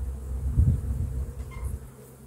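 A low, steady buzz of honeybees close by at an open hive, swelling briefly then settling into a soft drone.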